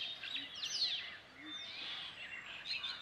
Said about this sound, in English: a bird is already singing its song, singing to proclaim his territory and space